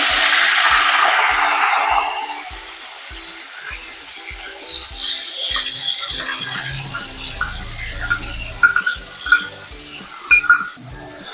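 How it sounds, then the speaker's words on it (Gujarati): Onion paste sizzling in hot oil with cumin seeds, a strong initial hiss that settles into a quieter sizzle, with rhythmic stirring and clinks of a spoon against the pan. "આવી રીતે સાંતળી લઈશું ત્યાં સુધી આપણે ડુંગળીની કસાસ ન જાય ત્યાં સુધી આને સાંતળવાની છે"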